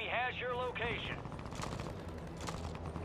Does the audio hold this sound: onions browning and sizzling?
no